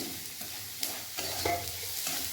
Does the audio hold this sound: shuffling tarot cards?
no